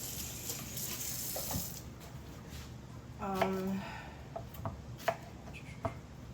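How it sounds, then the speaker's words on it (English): Plantains are sliced into rounds on a board with steady, crisp knife chops at close range, while a voice talks quietly in the background. "You can cut them however you want. I normally just cut them in simple circles"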